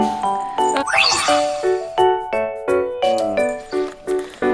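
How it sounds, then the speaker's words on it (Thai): A small bell on a Doberman puppy's collar jingles in bright, repeated clinks and shakes as the puppy moves and tries to bite it, close and clear, with soft music underneath. "กระดิ่งเอง"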